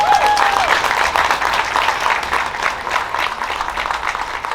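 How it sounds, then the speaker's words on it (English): Crowd applause at an outdoor Puerto Rican flag raising ceremony in Paterson, steady dense clapping with faint cheering throughout, a brief tonal whistle-like sound near the start. "give him applause for that."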